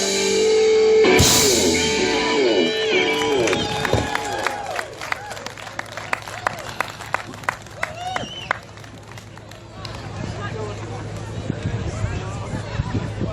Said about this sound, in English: Give them another round of applause as they leave.